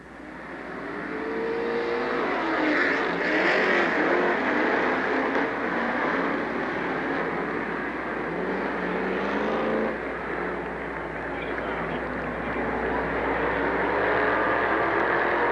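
UMP Street Stock cars roaring around Lernerville Speedway in a heat race, a loud continuous blend of engines that swells and fades as the field passes, with no talk over it.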